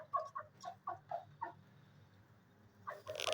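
A hen of a bare-necked breed, sitting on eggs, gives a run of soft, short clucks in quick succession, close and quiet, before a brief pause and a louder rustle.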